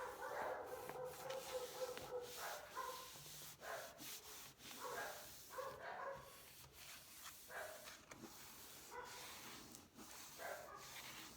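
Household dogs barking at a delivery driver at the door, several faint, scattered barks and whimpers heard at a distance, with rubbing and handling noises nearby.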